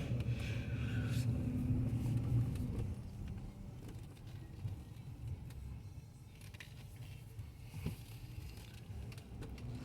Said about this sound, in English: We'll take it out for a quick little drive